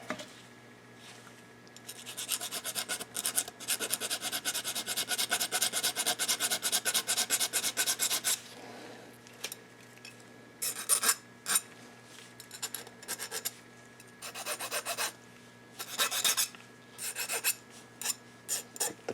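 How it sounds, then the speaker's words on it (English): A hand file rasps against a 2010 M8 motorcycle engine part in a long run of steady back-and-forth strokes, followed by shorter bursts of filing with pauses between them, close up and fairly quiet. "So let's file on the other side."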